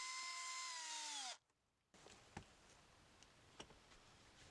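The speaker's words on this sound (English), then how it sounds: "Taking a small drill to the unit, I carefully drilled a couple of holes to feed the wires through." A small power drill boring holes into a costume armor unit: a motor whine spins down and stops, then a few faint ticks and light clicks follow in the quiet.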